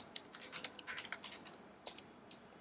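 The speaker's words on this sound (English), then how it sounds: "Oh, suppose I have to type it." Quick, light keystrokes on a computer keyboard, an irregular run of close taps for a couple of seconds with no voices.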